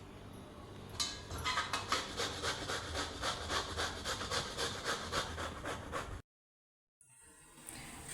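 Bottle gourd being grated on a hand grater for halwa, a steady rhythmic rasping of repeated close strokes for about five seconds, then a brief silence before a softer scrape resumes.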